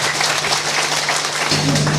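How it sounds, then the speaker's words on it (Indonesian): Applause from a church congregation during a thanksgiving Mass for a newly ordained priest, a steady dense clatter of clapping over a low sustained hum, lasting about two seconds. "Ya, kita tepuk tangan."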